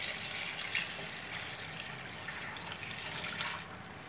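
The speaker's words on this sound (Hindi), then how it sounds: "तो 1 लीटर पानी डाल देंगे इसके अंदर।" Steady stream of about a litre of water pouring and splashing into a cooking pot of beef, a continuous soft trickling wash with no voices.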